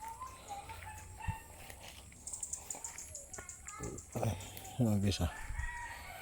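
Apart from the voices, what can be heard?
chickens and rooster crowing on a farm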